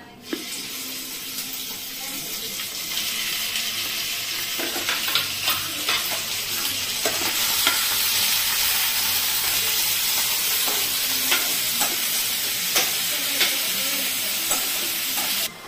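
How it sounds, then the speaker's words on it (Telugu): Chicken pieces fry in hot oil for chicken fried rice, a loud, dense, steady sizzle and crackle filling the whole stretch, with occasional scrapes and pops. "ఇక్కడ ఆయిల్ కూడా హీట్ అయిపోయింది. చికెన్ వేసేద్దాం ఆయిల్ లో"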